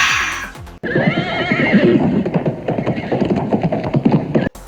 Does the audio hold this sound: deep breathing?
no